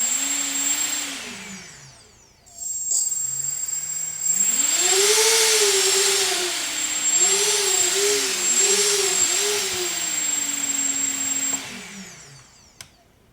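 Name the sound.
FPV quadcopter motors spinning up as throttle is moved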